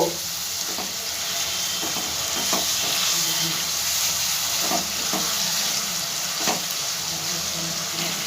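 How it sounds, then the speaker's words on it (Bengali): Spices and sliced ingredients frying in a pan on a gas stove for an egg dish, giving a continuous loud close sizzle with occasional stirring clinks and no talking. "দিয়ে খুব ভালো করে মশলাগুলো ভেজে নেব।"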